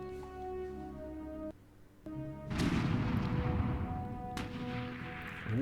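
Artillery fire in a Klotzen Panzer Battles wargame: after a short pause a heavy booming blast rolls out into a long rumbling decay, followed by a second sharp impact, sounding over a steady tonal music bed.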